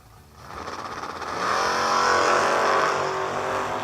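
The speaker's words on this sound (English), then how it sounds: "And left-hand lane in the Camaro, Herbie Sullivan, 706." At a drag strip, race cars including a Camaro launch from the line, their engines swelling from a rumble into a loud, sustained high roar that holds to the end.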